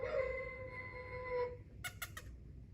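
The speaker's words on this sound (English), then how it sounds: "That's a rooster." A single rooster crows in one long drawn-out cock-a-doodle-doo, fairly faint against a low background rumble, followed by a few short sharp clicks and no talking.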